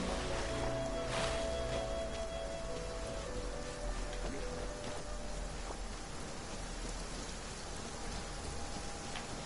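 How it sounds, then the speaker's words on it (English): Rain in the video game Genshin Impact pours as a dense, steady hiss of drops, with faint tonal game sounds mixed in throughout and no speech. "It always rains when I go on an adventure."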